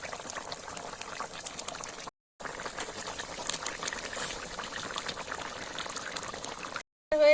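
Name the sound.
mustard koi fish curry boiling uncovered in a pan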